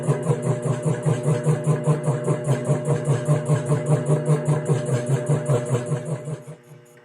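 Metal lathe turning slowly while cutting a 140-year-old piece of steel, giving a steady pulsing mechanical drone with a rhythmic beat throughout, fading out at the very end.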